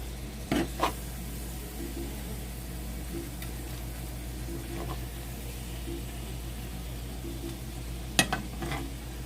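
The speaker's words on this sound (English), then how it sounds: "when you stir, make sure you stir all the way through" Food being stirred in a pan while making roll-up lasagna, a low steady sizzle with a few sharp scraping clinks of a spoon against the pan, quiet and close.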